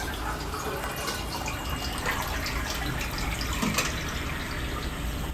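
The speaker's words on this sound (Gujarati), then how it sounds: "હવે આ ઠંડા પાણીમાંથી પાછી આપણે નિતારી દઈએ." Cold water runs and trickles out of blanched spinach as it is drained, a continuous close splashing flow with scattered drips, no talking.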